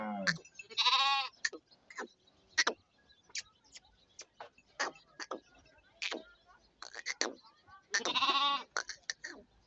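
A goat bleats loudly up close, two wavering cries at the start and near the end. Quieter clicks and ticks sound in between, and no one speaks.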